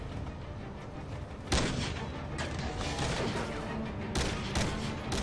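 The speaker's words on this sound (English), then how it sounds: "I have no recoil in this gun that I'm totally firing." Gunfire in the Dead Rising video game: a dense, continuous roar of shots and blasts for about five seconds, with a few louder bursts standing out, and no talking.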